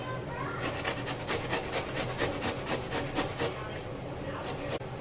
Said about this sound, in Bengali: আমি পুরো ঝিরি ঝিরি ঝিরি করে পেঁপেগুলো সমস্ত চিপারে ঘষে নিচ্ছি